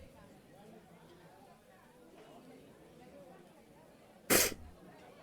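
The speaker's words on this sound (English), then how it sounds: "I felt that sneeze coming." A single loud, sharp sneeze bursts out near the end after a stretch of quiet, low background murmur.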